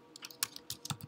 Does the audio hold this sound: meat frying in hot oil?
no